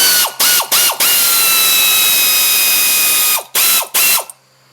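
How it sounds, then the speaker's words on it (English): A cordless ratchet or power tool spins 10 mm bolts off an ABS sensor on a 2003-2007 Honda Accord, giving loud close whirring bursts with short stops between them, and no voices. "We're going to start by removing the bolts that hold the ABS sensor on. They're both 10 millimeter."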